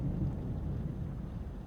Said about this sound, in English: you're not scared of lightning and thunder, are you?